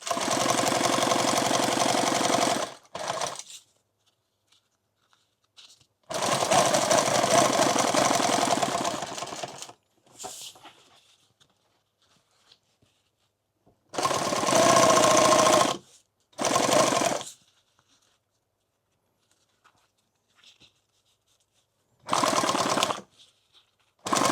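A sewing machine stitches fabric for a padded helmet and night-vision bag in several loud, steady bursts of whirring, separated by quiet pauses.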